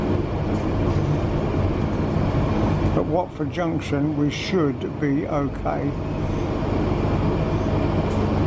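A London Underground Bakerloo line train rumbles steadily with a loud low drone throughout, while someone talks over it in the middle stretch.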